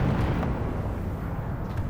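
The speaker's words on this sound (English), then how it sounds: "There's the explosion, and it took down a couple structures." An APC explodes in Arma 3, heard as a deep sustained rumbling roar that stays loud and dense throughout with no distinct onset.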